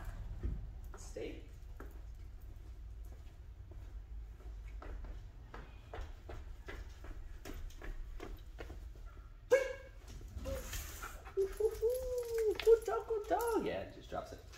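A dog gives a few short barks and whimpers during outdoor training and a game of catch, mixed in among a man's spoken commands and praise, with the louder yelps near the end.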